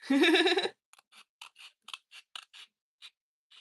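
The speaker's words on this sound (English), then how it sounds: "Scissors." Scissors snip through paper at close range in a quiet room: a string of short, crisp clicks and snips in an uneven rhythm after a brief spoken word at the start.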